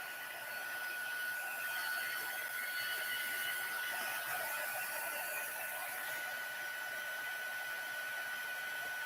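A heat embossing tool blows hot air in a steady, unbroken whoosh with a thin high whine, close and constant throughout with no talking.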